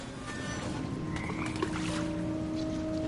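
Toads croak in a dark labyrinth scene from the video game What Remains of Edith Finch: a faint, dense croaking chorus over a constant ambient bed, with no voices.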